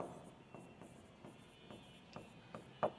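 Faint, quiet taps and short scrapes of writing on a classroom board, a series of small strokes spaced irregularly, the last one a bit sharper, over a low room hum.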